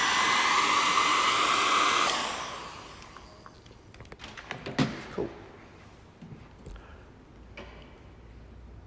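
A hair dryer blows across a watercolour and ink painting as a loud, steady roar for about two seconds, then switches off. Quieter handling clicks, taps and small knocks follow.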